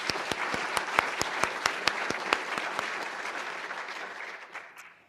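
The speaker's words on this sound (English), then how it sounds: "let's give a round of applause for them as well" Round of applause at an academy awards ceremony: an audience claps steadily, with distinct loud claps early on, then the sound thins and tapers off toward the end.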